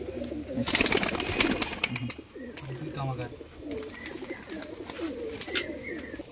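Pigeons coo in low, throaty bursts close by, under a steady background hum, with a brief rustle and flutter early on.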